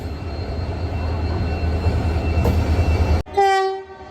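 A Vande Bharat Express train rumbles loudly beside a station platform with a steady low drone, then a brief pause before a clear horn-like tone sounds at the end.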